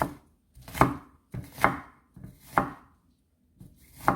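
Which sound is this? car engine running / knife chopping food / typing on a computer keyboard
knife chopping food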